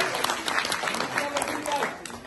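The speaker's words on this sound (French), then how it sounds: "Applaudissez Moudigirale." Audience applause at a Guinean political gathering, a steady patter of many clapping hands lasting about two seconds, with a voice speaking over it.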